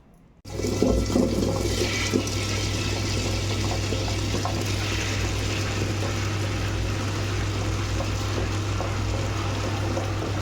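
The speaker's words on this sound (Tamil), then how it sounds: "இப்போ நம்ம அரைச்சி எடுத்துக்கலாம்" A grinder churns soaked urad dal into idli batter, starting abruptly and then running as a steady, continuous whirring slosh of motor and wet batter, close and unbroken, with no voices.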